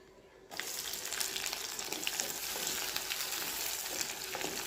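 Onions hit hot oil after mustard seeds have popped and burst into a loud, steady, close sizzle that continues evenly, with a few faint crackles, for a village-style kootan soru.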